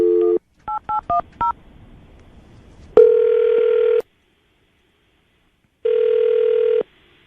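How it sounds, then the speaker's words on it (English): A telephone call is placed: a quick burst of dialing tones, then two long ringback tones separated by a silent gap, clear and close. "we're going to call her right now, see if we can get her on the phone"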